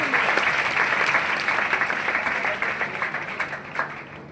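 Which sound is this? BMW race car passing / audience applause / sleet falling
audience applause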